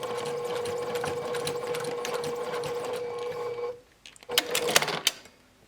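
A sewing machine stitches a zigzag row on a fabric face mask tie, a fast steady mechanical whirring for several seconds that stops briefly, then resumes in a short burst.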